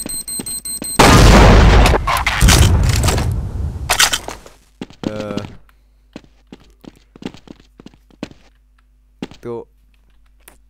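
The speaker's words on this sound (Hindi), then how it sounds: "तो बॉम ही फट जाएगा मेरे ख्याल से ना, बॉम फट जाएगा।" A bomb blows up in Counter-Strike, a loud, sudden boom with a rumbling, crackling tail lasting a few seconds, followed by sparse clicks and keyboard taps; a voice talks briefly.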